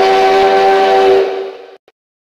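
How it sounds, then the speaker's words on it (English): A loud train steam whistle blows one sustained, steady blast, then cuts off abruptly, leaving a brief faint echo and then silence. "you really think you're gonna scare me with a fake whistle?"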